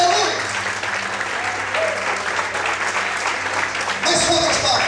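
A church congregation applauding in worship, a dense steady wash of clapping sustained throughout with a brief shift near the end.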